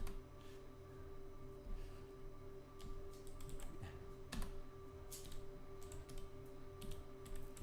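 Fast typing on a computer keyboard, a steady patter of soft key clicks with a few louder taps, close by over a low background hum.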